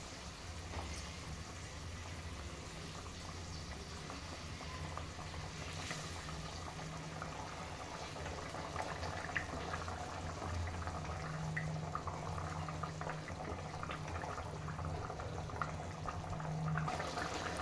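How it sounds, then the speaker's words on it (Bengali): Bata fish curry broth (tel jhal) boils in a pan, giving a steady, soft bubbling hiss that continues evenly throughout. "ঝোলটা কিন্তু আমার ফুটে উঠেছে।"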